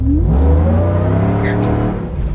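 A supercharged Chevrolet Suburban's engine, just repaired with new plug wires, revs and pulls strongly, its pitch rising steadily before easing off near the end, loud and close with no talking.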